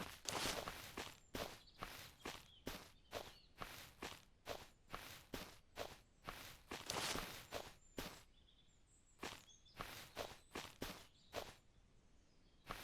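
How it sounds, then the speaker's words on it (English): Footsteps of a player character in the survival game SurrounDead, a steady series of crunchy steps on rough ground, mostly evenly paced with brief pauses, close and clear over faint outdoor ambience with light birdsong. "I keep hearing my own footsteps and it's throwing me off."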